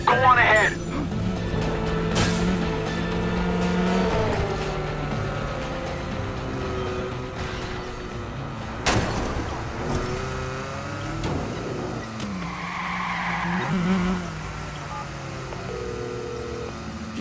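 Car engine revving and tires skidding in the Watch Dogs video game, a steady drone with harmonic sweeps and a sharp transient mid-way, playing under game dialogue and music.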